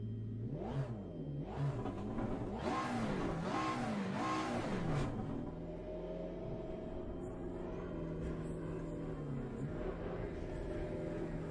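A race car engine in the racing simulator Assetto Corsa Competizione revs hard, its pitch climbing and dropping through several quick surges before settling into a steady, loud drone.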